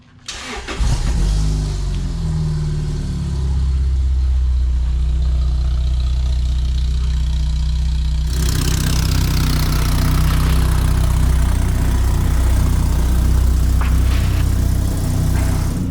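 A Lamborghini Gallardo Superleggera cranks and fires, catching with a loud bark, then settles into a steady, deep idle that grows slightly rougher and louder partway through, with no talking over it.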